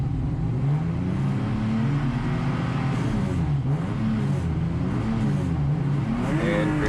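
Several race cars in a USTCC touring car field, including a BMW M3 and an Acura RSX, rev and accelerate hard at a green flag start, a loud continuous engine roar with rising and falling pitch throughout.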